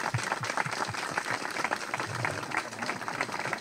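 An audience in an outdoor garden at the close of a university-for-seniors academic year breaks into dense, sustained applause, with many hands clapping close together at a steady level.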